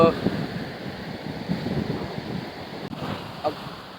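Wind and surf at a beach in Goa, a steady rushing wash with gusty buffeting on the microphone. The sound is close and fairly loud throughout.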